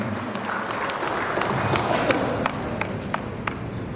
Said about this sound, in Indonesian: Boleh kita juga iringi dengan tepuk tangan Bapak Ibu semua.